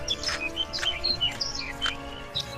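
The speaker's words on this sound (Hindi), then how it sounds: "चिड़िया के चहकने की" Small bird chirps ring out in a Hindi cartoon story, bright, quick tweets scattered irregularly over a soft, humming background.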